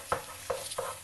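Ginger garlic paste fries in a pan for mutton curry, with three distinct scraping strokes of a spoon at steady intervals over a soft sizzle, close and fairly quiet, no voices.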